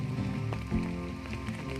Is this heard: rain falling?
yes